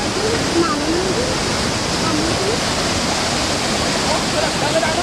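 Mambukal Seven Falls waterfall in Murcia, Negros Occidental, a dense steady roar of rushing water, loud and unbroken throughout, with faint whistling or birdlike chirps above it.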